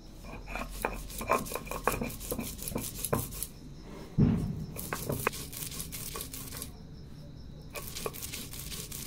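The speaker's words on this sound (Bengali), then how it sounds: "প্রথমে ডাল কটা বেটে নিচ্ছি" Soaked lentils being ground by hand on a grinding stone, with a quick run of rhythmic scraping strokes and clinking that pauses, brings in a low rumble, then continues sparser and steady.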